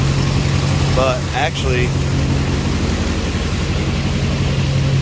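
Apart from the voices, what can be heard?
Duramax diesel engine idling in an Escalade with full exhaust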